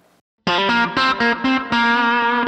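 Distorted lead guitar run through a Line 6 Helix with chorus, echo and big reverb, playing a series of sustained, bending notes with short gaps over about two seconds, loud and alone.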